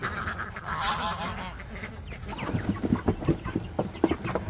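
Broiler chickens let out onto pasture at a homestead cluck and squawk in a busy, overlapping flock chatter, growing denser and closer, with scattered bird calls throughout.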